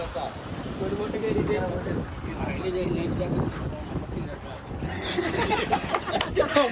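A boat moving across water in Oman, with steady wind buffeting the microphone and a rushing, splashy wash throughout; a voice talks briefly over it.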